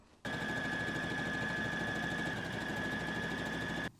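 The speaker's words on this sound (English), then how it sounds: "Now I'm going to head to the sewing machine and sew this up." A sewing machine stitches fabric steadily for several seconds with a constant mechanical whir and hum, then stops; no talking.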